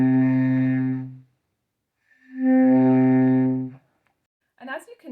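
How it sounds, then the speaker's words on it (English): Two saxophone notes started on breath alone with no tonguing, each beginning breathily before settling into a steady harmonic-rich tone held about a second; a brief spoken voice follows. "So you're going to just try blowing air through your saxophone without using any tongue"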